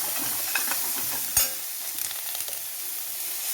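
Two slit green chillies hit hot oil in a pan for a beef and plantain curry, giving a steady close sizzle with a sharp clank of a spoon and light stirring scrapes.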